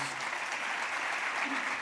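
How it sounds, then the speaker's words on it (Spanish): Audience at a talk breaking into steady, dense applause that is moderately loud and continues without pause for the whole moment. "quisiera que se den un gran aplauso a todas ustedes"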